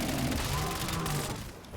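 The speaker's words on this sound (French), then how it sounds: "Je tire au pistolet" Rapid gunfire crackles through a zombies match in Call of Duty Black Ops 7, loud dense bursts of shots blending into a continuous roar of combat noise.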